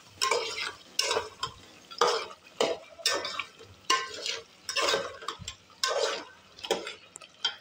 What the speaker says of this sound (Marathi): मटण टाकते मी याच्यामध्ये आणि चांगलं मसाल्यामध्ये परतून घ्यायचे।